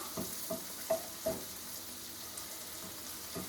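Gnocchi is stirred in sizzling butter and garlic in a pan, a steady soft sizzle broken by a handful of spoon scrapes and light clinks, close and quiet, with no speech.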